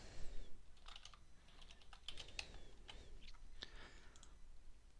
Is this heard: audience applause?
no